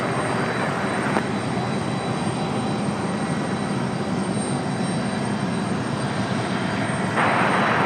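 Envoy jet airliner taking off from runway 5 left at Raleigh-Durham airport, a loud, steady broadband engine roar that holds throughout at close range.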